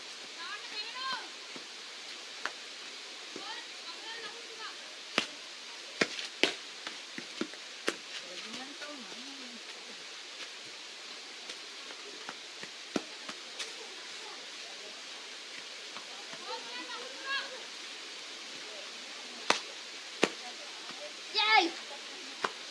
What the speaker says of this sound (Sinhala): දැන් හොඳටම වහිනවා